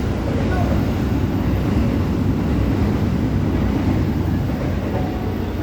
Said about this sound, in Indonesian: itu ada kereta api lewat.